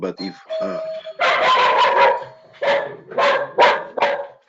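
A dog barks in a home during an online lecture, giving a loud burst of several close barks in quick succession, with a doorbell-like chime and someone speaking briefly early on.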